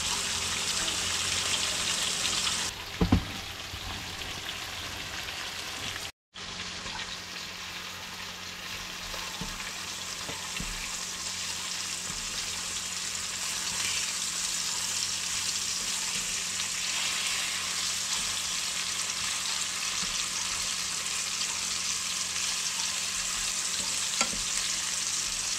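Bluegill fish fillets fry in a hot pan with a steady, dense sizzle that runs unbroken from start to finish, broken only by a brief clatter early on and a momentary dropout, with no talking.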